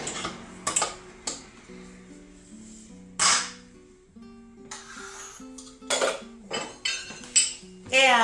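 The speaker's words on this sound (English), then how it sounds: "I'm going to put it onto my mixer." Mixing bowl set onto a stand mixer for bread dough, a scatter of close metallic clinks, knocks and ticks at irregular intervals, with soft background tones between them.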